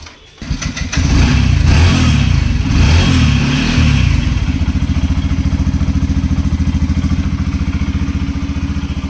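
A motorcycle engine starts with a sputter and then revs hard before settling into a loud, steady throbbing idle close by, with no voices.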